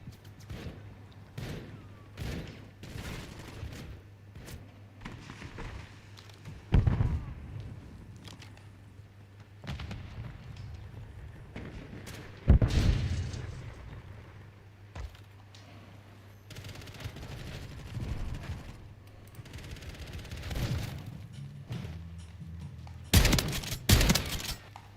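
Shotgun firing in Call of Duty Modern Warfare III: sharp, loud blasts scattered irregularly through a stretch of quieter game sound, with a tight cluster of rapid shots near the end.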